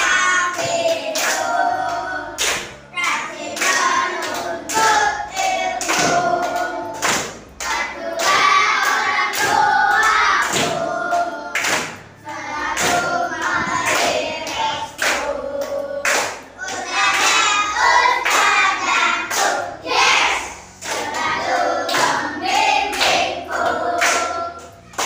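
A group of children in an Indonesian classroom clap hands together in a quick, steady rhythmic pattern before a lesson, the sharp claps loud and close and continuing throughout, with occasional small voices mixed in.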